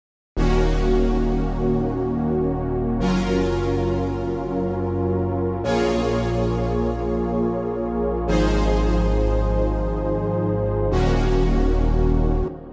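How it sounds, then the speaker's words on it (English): A bright analog synth lead layered with electric piano in Logic Pro X for a zouk and kizomba track, playing sustained chords that restart in strong, even phrases every few seconds, loud and alone with no voice. "Bright synth, analog waves, and electric piano together, and that sounds like this."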